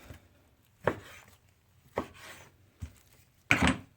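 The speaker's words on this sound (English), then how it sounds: "So I just kind of cut the butt in half here just to show different cross sections." A knife cuts through a pork butt on a cutting board, giving four separate close, dull chopping thuds spaced about a second apart, the last one louder and longer.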